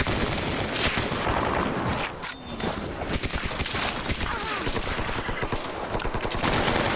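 Rapid, sustained automatic gunfire from the video game Stalker Anomaly, dense overlapping bursts running continuously at close range with only a brief lull midway.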